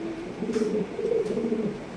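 A Mundian pigeon coos in a low, repeated throaty call, close and moderately quiet, with a few soft rolling phrases and no talk.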